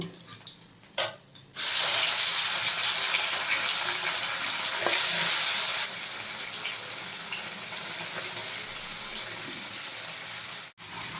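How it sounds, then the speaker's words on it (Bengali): Mourala fish frying in hot oil: after a brief quiet moment, a loud, dense sizzle starts, easing slightly midway, with a short cut near the end, and no talking. "মাছটা ওদিকে ভাজা হতে থাক"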